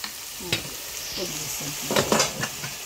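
Gourd frying in a pan with turmeric and chili, a steady sizzle broken by several close, scraping spatula strokes as the pieces are tossed and mixed.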